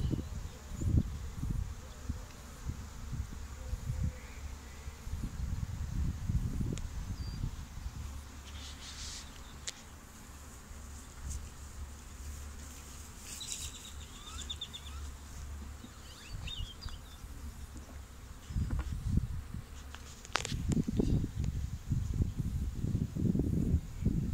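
Bee swarm outdoors in a front yard at sunset, a continuous low buzzing drone with rustling and handling noise surging at the start and end, moderately close.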